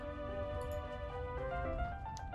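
In a video game, a train lurches into motion with a low rumble under steady tonal humming and whining tones that shift partway through, continuous and moderately quiet with no talking.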